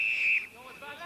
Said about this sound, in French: L'arbitre a sifflé, coup franc pour les Français